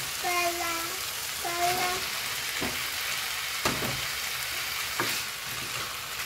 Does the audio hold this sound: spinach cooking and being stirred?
yes